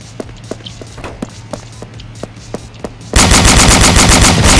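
BrainBread 2 video game gunfire: evenly spaced single shots from a FAMAS rifle, then a sudden loud burst of continuous automatic fire at close range.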